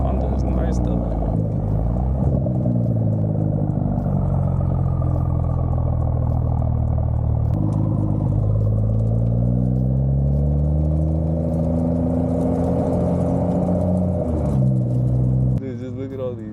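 A Honda car drives along a street, its steady engine and road rumble running the whole time, with the pitch sweeping up and down as it changes speed while someone talks over it. The sound cuts out abruptly near the end.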